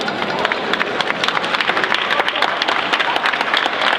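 Crowd applauding at a student government presidential debate, many hands clapping briskly and continuously, fairly loud and close, with faint crowd noise mixed in.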